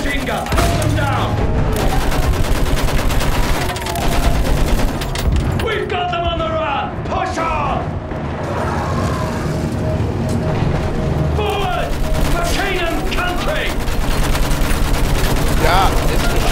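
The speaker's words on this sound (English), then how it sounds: "Use that machine gun! Put them down!" Rapid machine gun fire rattles almost continuously in the Battlefield 1 video game, with dense bursts, explosions and battlefield clamor layered over shouted in-game voices.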